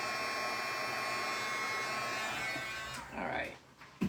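A heat tool warms embossing powder on a card, its steady electric whir blowing for about three seconds before it cuts off, followed by a few brief handling knocks.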